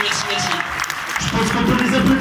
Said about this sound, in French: Je pense qu'on peut les applaudir plus fort que ça, s'il vous plaît.